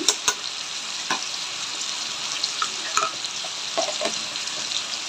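Tomatoes with salt and turmeric sautéing in a pan for Tamil fish curry, a steady close sizzle with several sharp scraping stir strokes throughout.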